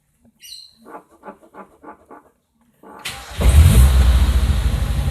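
A motorcycle engine runs during a test of a custom ignition coil cable. Soft rhythmic ticking comes first, then the engine catches at about three seconds and settles into a loud, close, steady running rumble.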